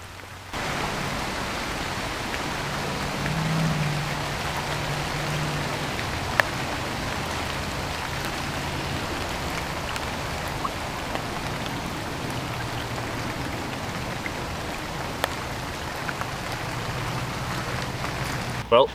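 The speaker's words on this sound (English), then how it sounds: "I really do have to be careful fishing out in the rain" Steady rain falls outdoors by the water during bank fishing, a constant broad hiss of drops on surfaces lasting throughout, with a few sharper taps and a brief low murmur partway through.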